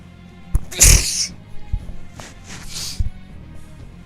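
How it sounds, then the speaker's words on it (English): A man sneezes once sharply and loudly at close range, followed by a few quieter sniffs and breaths while he is drawing at a desk. "Man, I sneezed again."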